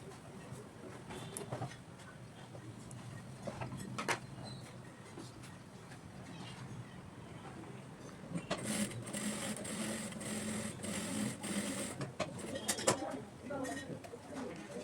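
A domestic sewing machine stitches fabric pieces for a handbag, running as a steady whirring drone through the second half after quieter handling noises, while pigeons coo in the background.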